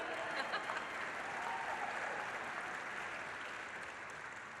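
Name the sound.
crowd cheering and applauding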